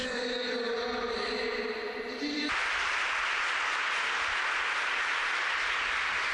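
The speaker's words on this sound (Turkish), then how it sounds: "Büyük alkış." Broad, dense applause from an arena crowd fills the second half after a gymnastics gold medal, starting abruptly after a stretch of music and continuing steadily to the end.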